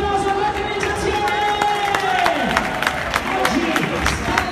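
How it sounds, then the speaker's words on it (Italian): Spectators at the 100 km Passatore ultramarathon from Florence to Faenza clap and cheer for the race organizers, a steady outdoor wash of applause with scattered shouts and sharp claps close by. "Signore e signori, fate un applauso all'organizzazione!"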